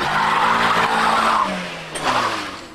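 Volkswagen Polo 16-valve hot hatchback accelerating hard: a loud, close engine howl holding high revs, dipping at a gear change, then climbing again with some tyre squeal.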